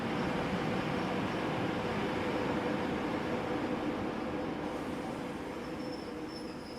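A train rolls along the Silk Road route past countless tanker cars of crude oil, a constant dense rumble and rushing roar at steady level throughout, with no voices.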